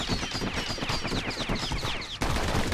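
Rapid gunfire rattles from a weapon in the video game Bastion, a fast continuous burst of sharp repeating shots with a brief pause before it resumes.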